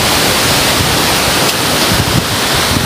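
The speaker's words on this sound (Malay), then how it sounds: "Itu kuat angin sekali hari ni." Strong outdoor wind roars across the microphone as a loud, continuous rushing blast with gusty swells and no clear pauses, near bamboo swaying in it.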